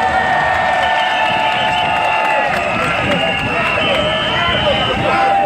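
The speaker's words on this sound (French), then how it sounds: "Applaudissez pour lui." Large outdoor crowd at a political rally in Douala cheering and applauding, a loud, continuous roar of voices and clapping with whistling tones layered over the din throughout.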